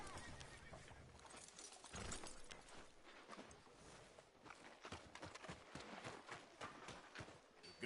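Horse in the Red Dead Redemption 2 video game, hooves clip-clopping in an uneven run of hits along with a whinny, fairly quiet and heard alone without talk.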